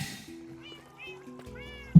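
A Minecraft cat gives several soft meows in a row under quiet game ambience, ending in a brief louder thump.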